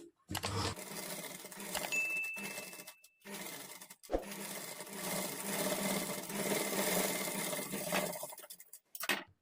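A sewing machine with a normal presser foot runs an edge stitch along a garment lining while making invisible thread piping, stitching in steady bursts separated by short pauses, close and moderately loud.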